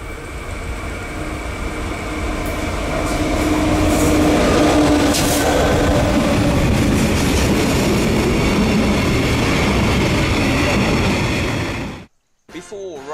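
Westrail S-Class JT42C diesel locomotive train passing close by, a loud steady rumble of engine and rolling wagons for about twelve seconds before it cuts off abruptly.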